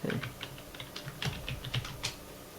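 Fingers tapping a computer keyboard, a short burst of quick, uneven clicks heard close by and fairly quiet, with no speech.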